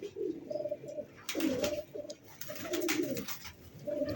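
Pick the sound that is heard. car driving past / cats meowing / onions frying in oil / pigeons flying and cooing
pigeons flying and cooing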